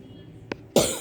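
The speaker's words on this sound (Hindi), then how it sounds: "मेरे को ना थोड़ी खांसी सी आ रही" A single short cough, fairly close, followed by a louder, harsher burst of coughing or throat noise that trails off.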